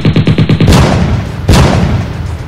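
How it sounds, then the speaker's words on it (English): Rapid gunfire: a fast string of loud, close shots in a tight rhythmic burst, then a single booming blast with echoing decay, all without any talk. "you hear gunshots until your ears ring"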